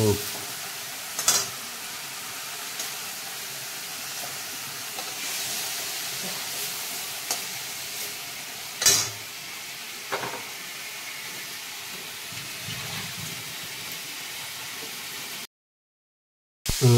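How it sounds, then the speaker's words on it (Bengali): Shrimp fried lightly in a pan for a Bengali prawn dish, giving a steady close sizzle with a few sharp utensil clinks and stirring scrapes, then a brief silence near the end. "চিংড়িটা বেশি ভাজবো না। আচ্ছা, হালকা করে ভেজে তুলে নেবে।"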